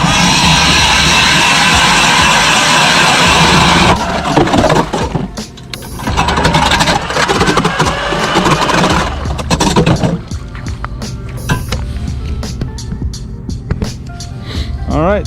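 An ice auger drills a fishing hole through lake ice, a loud, close, steady grinding whine for about four seconds, followed by clattering, scraping and handling noises as the gear is moved.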